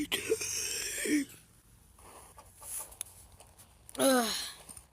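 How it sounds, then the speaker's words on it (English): A person yawns up close, with a drawn-out, falling vocal yawn at the start and another near the end, separated by quieter room noise. "Yeah, that was a yawn"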